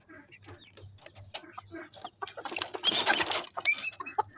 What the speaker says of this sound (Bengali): এগুলো সব ওমানি মুরগি।